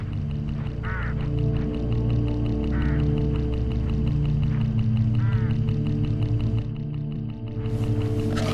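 A flock of crows swarms in the video game Hitchhiker: A Mystery Game, with repeated harsh cawing calls over a dense, loud droning backdrop of game ambience.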